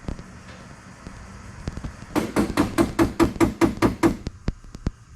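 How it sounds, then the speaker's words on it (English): A nitrous solenoid on a turbo Ecotec V6 race car clicks sharply in a rapid, even series of about ten pulses as it is fired from a software test output, followed by a few sparse clicks. "So that's a nitrous solenoid activated and working."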